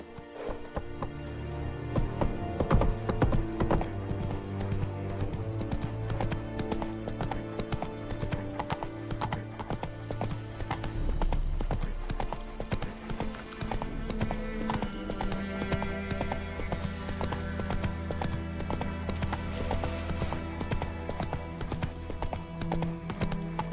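Hooves of a galloping horse clip-clop steadily in The Witcher 3, a fast rhythmic beat running under swelling orchestral game music for the whole stretch, with an occasional whinny.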